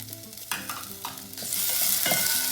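Tomatoes hitting hot seasoned oil with onions, urad dal and mustard seeds, stirred with a few scraping knocks before the sizzle swells into a steady, close hiss and crackle; no talk.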